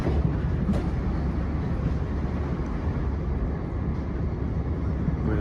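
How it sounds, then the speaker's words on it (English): A train passing alongside on a four-track suburban line near Petts Wood, heard from inside another train as a steady low rumble and roar with faint clatter, continuous and fairly loud. "that is the train that's obviously come underneath and come round us"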